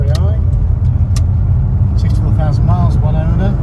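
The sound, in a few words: 1988 Ford Escort XR3i car driving on the road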